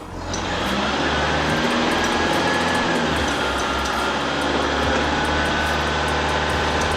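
A car engine fitted with a CRL Performance aftermarket exhaust is held at about 2,500 RPM, producing a loud, steady drone and roar that builds at the start and stays constant throughout.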